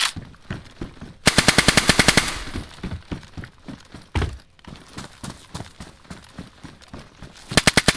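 Machine-gun fire in the DayZ survival game: several rapid bursts of sharp, loud automatic shots, close by, with short pauses and scattered single shots between bursts.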